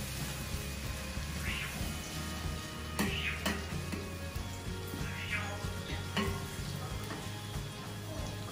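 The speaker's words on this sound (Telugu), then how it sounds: "అల్లము వెల్లుల్లి గ్రౌండ్ నట్ ఆయిల్ వేసేసరికి ఆ బబుల్స్ లాగా వస్తుందండి" Ginger and garlic sizzling in groundnut oil in a home kitchen pan, a steady close hiss with occasional stirring clatters and faint background hum.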